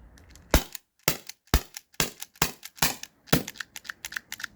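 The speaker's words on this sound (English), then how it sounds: "So I'm just gonna shoot this, see how many shots I get out of it." A T4E HDP50 Gen 2 pistol fires at cans, giving eight sharp, loud cracks spaced about half a second apart, each followed by a quick clatter, close by and with no talking.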